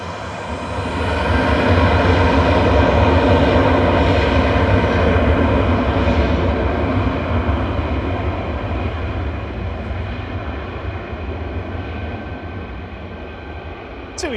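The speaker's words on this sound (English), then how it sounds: "TUI Flight 850 to Enfida departing there in front of us." A TUI airliner on its departure roll at Manchester Airport, a loud, sustained jet engine roar that builds over the first couple of seconds and then slowly fades as the aircraft climbs away, with no talking over it.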